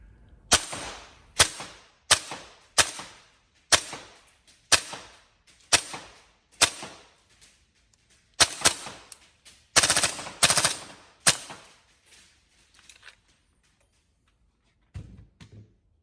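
Upgraded TM MTR16 gas blowback airsoft rifle firing a series of sharp, loud single shots at a steady rhythm, then a quick rapid burst and a few scattered shots before falling quiet, with no talk.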